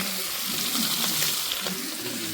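Bhangda fish frying in a pan with ginger-garlic masala gives a steady, loud, close sizzle that carries on without a break and without any talk.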